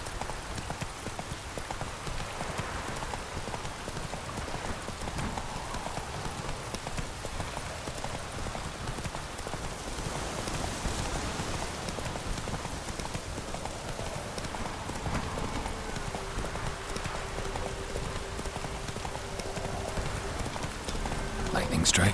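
Roach the horse gallops through pouring rain in The Witcher 3, steady clip-clop hoofbeats pounding over a dense wash of rainfall, loud and continuous throughout.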